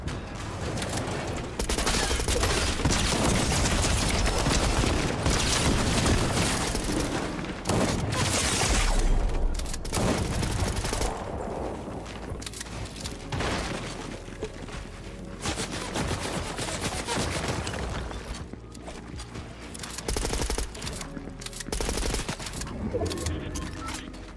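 Dense, rapid gunfire in an online shooter game match, with bursts of automatic fire and single shots packed tightly together and loud throughout, plus a few brief louder blasts.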